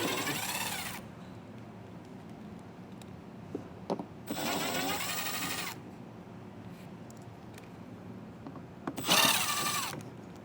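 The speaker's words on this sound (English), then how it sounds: "Take that same T15 Torx bit. We're going to have several screws on the inside of our wheel well here that we'll have to remove." Power driver with a T15 Torx bit backing out screws inside the wheel well of a 2023 Buick, three separate bursts of whirring a few seconds apart, moderately loud with quiet gaps between.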